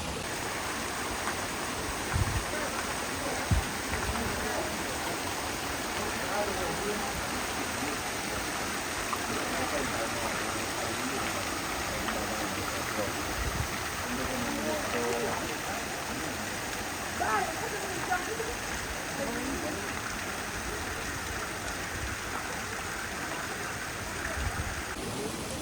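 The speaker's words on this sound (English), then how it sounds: "I'm just impressed with how strong the water flow is." Strong, steady rush of water from the garden fountains of Villa d'Este in Tivoli, a continuous broad roar heard outdoors with faint voices and footsteps mixed in.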